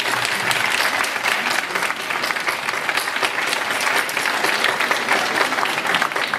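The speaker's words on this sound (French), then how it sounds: "j'aurais souhaité qu'on applaudisse les délégués pour les questions" A hall audience applauding delegates at a French discussion event, continuous loud clapping from many hands, even and sustained throughout.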